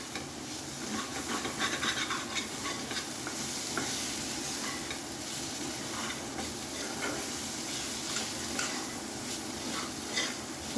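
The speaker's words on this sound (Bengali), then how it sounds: "মশলার সঙ্গে মাছটা খুব ভালো ভাজা হয়ে গেছে" Small mud fish are fried with spices in a pan while being stirred. A steady, close sizzle runs throughout, with continuous scraping and rubbing of the spatula, and no voices.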